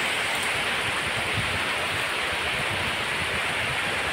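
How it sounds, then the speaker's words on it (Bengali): Dense, steady rain hisses continuously as an unbroken wash of noise, fairly loud and close with no one speaking. "প্রচণ্ড বৃষ্টি"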